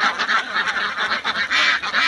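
Farm ducks kept in confinement honk and quack continuously while bathing, a dense overlapping flock chorus close by with no talk.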